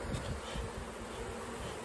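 Close, continuous buzzing of many honey bees during a hive cut-out from a possum box, a steady low drone with a shimmering hum and no voices.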